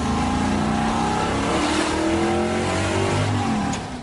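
A 1968 Chevrolet Camaro Z28 with its small 302 V8 revs hard and steadily, a loud, continuous high-pitched engine scream with rising harmonics, no talk over it, fading slightly at the end.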